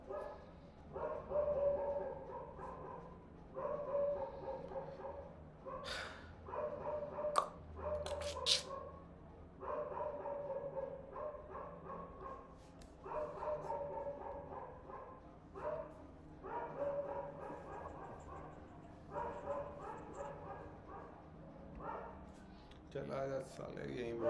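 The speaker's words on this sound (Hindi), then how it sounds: "कुत्ता भी भौंकेगा।" Dog barking in repeated bursts through an online video chat, moderately loud and mixed with background voices and room noise.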